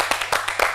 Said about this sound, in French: Nous allons l'applaudir en même temps